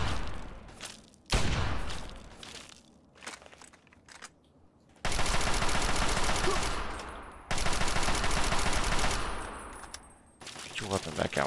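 Automatic gunfire from a player's weapon in Fallout 3, loud close bursts of rapid shots in long sustained strings separated by quieter gaps with scattered single shots.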